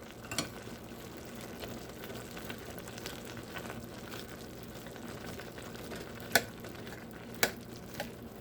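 Pancit noodles are stirred in a pot, a soft steady bubbling sizzle with gentle scraping and a few sharp metallic clinks of the utensil near the end.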